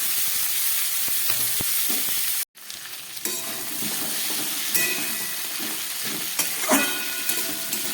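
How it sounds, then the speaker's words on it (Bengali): Mixed winter vegetables fry in a pan with turmeric, giving a steady close sizzle with stirring scrapes throughout and a brief break near the start. "সবজিগুলো ভাজা হয়ে গেছে"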